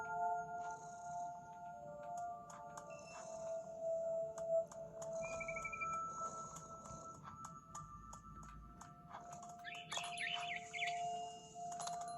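A bird chirps in the video game What Remains of Edith Finch, up in a big tree. Short tweets and calls come and go over sustained tonal ambience, with no talking.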